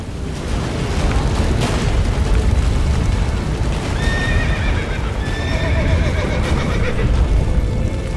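A horse whinnies loudly in The Witcher 3: Wild Hunt amid rumbling booms and hoofbeats, the neighs rising in a few drawn-out bursts over the heavy background.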